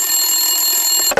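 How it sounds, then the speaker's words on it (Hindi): A sustained, bright electronic phone ring holds steady for about a second, then cuts off abruptly into a short clatter. "टेलीफोन की घंटी बजी"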